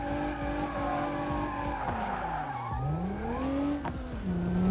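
In BeamNG Drive, a car slides under a hard handbrake, its tires squealing and skidding while the engine note swoops up and down, loud and continuous, with no talking.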